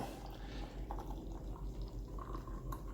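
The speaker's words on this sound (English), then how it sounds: "So I know people are complaining about the way I'm pouring, but I'm doing it one-handed." Voss IPA beer pours into a glass, a faint, steady liquid trickle with small dripping splashes running throughout, quiet and without speech.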